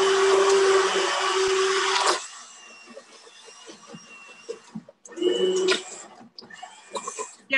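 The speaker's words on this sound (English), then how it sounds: "You don't want to hold the immersion blender in one space." An immersion blender purées Jamaican squash soup in a pot, whirring loudly for two seconds, then chunky stirring and a second short burst of blending, close up, with voices talking in between.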